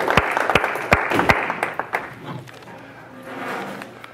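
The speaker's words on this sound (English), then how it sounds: "Let's give them a round of applause." Audience applause at an amateur radio preparedness gathering. Several loud, separate claps come first, followed by a softer, scattered round of clapping that fades away.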